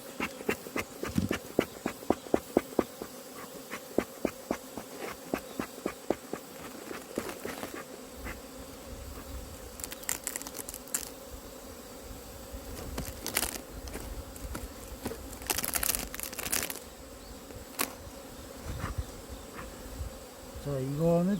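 Honeybees buzz steadily at a beehive, a close, continuous droning hum with individual bees flying past now and then over a constant background of the colony.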